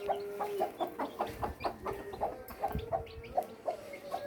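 A hen, rooster and young chicks cluck in a steady pulsing rhythm while a child scatters rice for them in a yard, the calls close and moderately loud with thin peeping between.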